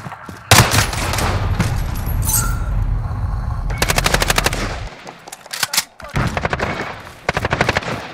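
Rapid automatic gunfire in the video game Modern Warfare, played on PS5, comes in several loud, close bursts of quick repeated shots separated by brief pauses.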